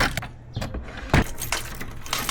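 A bunch of Honda Beat motorcycle keys jangles and clinks close by in a few quick bursts, with a sharper rattle midway and no talking over it.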